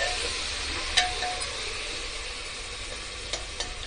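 Fish stew being stirred in a pressure cooker after ginger and garlic paste and salt are added, giving a steady soft sizzle with faint scraping and a few light clinks, close and alone.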